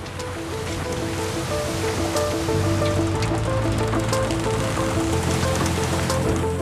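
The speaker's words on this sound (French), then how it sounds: "entendre cette eau frapper et soulever la coque de mon bateau" Water slaps and sloshes against a boat hull in a steady, loud wash, with a low engine-like drone running underneath.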